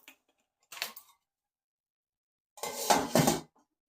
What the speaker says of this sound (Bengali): জল দিয়ে আমি এখন ঢাকা দিয়ে দেব।